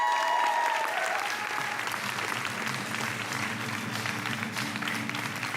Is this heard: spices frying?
no